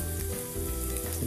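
Onion frying slowly in a pan, a steady dense sizzle with crackling spits continuing close and evenly throughout.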